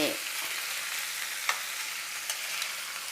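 Shrimp with spice paste stir-fried dry in a hot pan for a Thai shrimp dish, a bright continuous sizzle with a couple of quick scrapes from stirring, close and loud, no voices.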